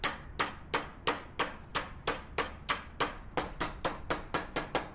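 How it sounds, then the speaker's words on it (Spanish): Repeated pounding of chicken breasts flattened between sheets of baking paper with a kitchen hammer, about fifteen sharp, evenly spaced thuds in a steady rhythm, close and alone with no talk. "con ayuda de un martillo de cocina o de un cazo, las aplastamos hasta hacerlas muy finas"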